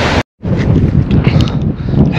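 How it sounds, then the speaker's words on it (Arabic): Wind blows off the sea across the desert near the Somaliland–Djibouti border, buffeting the microphone as a loud, steady rumbling roar after a brief cut-out at the start. "الريح"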